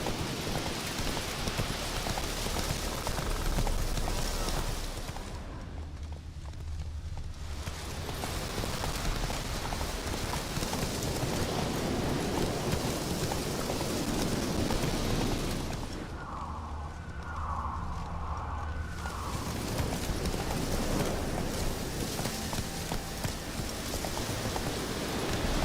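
Roach the horse trots through rain in The Witcher video game, hooves clip-clopping rhythmically over a steady, dense hiss of rainfall, with two short lulls where the patter thins.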